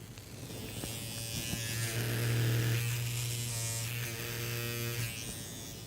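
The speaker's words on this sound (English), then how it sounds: "This is a beautiful shaver which has a small vibrator inside." A close electric shaver with a small internal vibrator buzzes steadily for several seconds, its drone swelling slightly louder in the middle before easing off.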